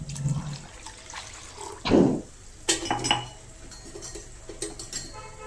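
Water poured into a pot of taro root tamarind curry makes a short splashing rush in the middle, between quieter clinks and knocks of the pot and utensils.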